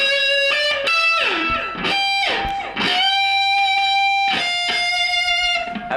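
An electric guitar with amp reverb plays the second solo of a song, loud and sustained with singing bends and slides ringing into echo over six seconds, with no speech.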